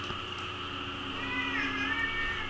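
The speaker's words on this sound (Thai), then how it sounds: "มาแล้วฮะ แขกผู้ไม่ได้รับเชิญน้องแมว" A pet cat gives one drawn-out, rising-and-falling meow indoors, clear and fairly close, over a steady low electronic hum of game audio.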